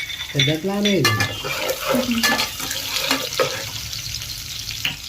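Chopped ginger and garlic fry in a hot pan with a steady, close, hissing sizzle. A voice briefly sounds near the start.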